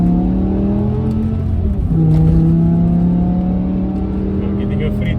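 A BMW E60 M5 with its V10 engine pulls hard in manual mode from inside the cabin, a loud sustained drone climbing in pitch as it accelerates, with a shift around midway and someone talking over it.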